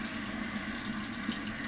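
Tap water running to warm up for rinsing a pierced ear, a steady faint hiss of flowing water heard alone and unchanging throughout.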